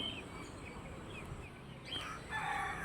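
Chickens, including Giriraja chickens, cluck and a rooster crows amid the busy, noisy background of the Pendurthi poultry market in Vizag, the crowing rising toward the end, somewhat distant.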